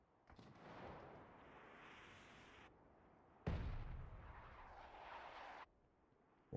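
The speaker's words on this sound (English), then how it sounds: "we can see there's mortar fire involved" Mortar rounds landing in a PUBG pro scrim match: a loud, sustained rumbling blast, then a second heavier impact with deep low-end boom that rolls on for a couple of seconds before another hit begins.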